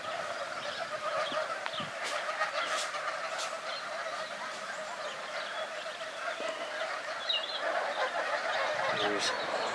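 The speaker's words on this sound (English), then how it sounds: "There's geese down there." Geese honk on a foie gras farm in the open fields near Les Eyzies, France: scattered honks and calls carry from a distance over a steady outdoor wash, with faint voices now and then.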